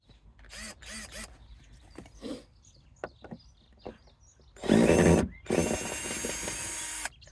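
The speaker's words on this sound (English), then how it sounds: "So I'm going to get my drill out, see if I can take these apart" A power drill whirs in two loud bursts near the end, removing screws from the wooden planks of a raised garden bed, preceded by scattered clicks, knocks and handling noises.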